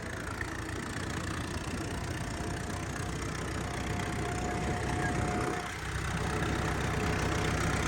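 A tractor engine runs steadily in third gear, a continuous mid-low diesel drone with faint whine, holding nearly constant loudness with a short dip, close and alone without talk.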